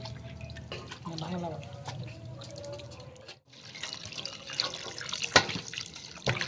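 Tap water runs steadily into a sink while flour dough is washed by hand, with splashes and drips and low voices in the background.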